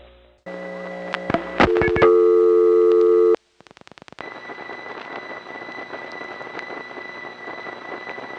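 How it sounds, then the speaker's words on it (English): Woodland Hills Crossbar 5 telephone central office heard through a payphone line: steady tones and dialing clicks, then a brief pause followed by a constant faint whine over line hiss, no talk. "this is the distinctive whine of the Woodland Hills Crossbar 5 office"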